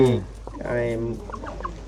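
Chickens clucking close by in a short burst, with a rooster-like call at the start and scattered hen calls over rustling background, no clear talk.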